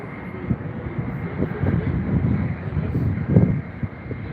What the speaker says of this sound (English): the Emirates A380 takes off from Heathrow back to Dubai